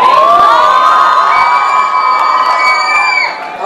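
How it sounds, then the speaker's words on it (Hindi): A live stage comedy show audience of boys shouting, whooping and cheering loudly, a dense sustained roar of many young voices in a large venue, tapering slightly at the end. "लड़के ही चिल्ला रहे हैं"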